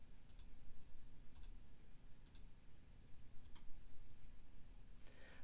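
Computer mouse right-clicking on a Windows 10 desktop: five sharp, quiet clicks spaced about a second apart against a low background hum.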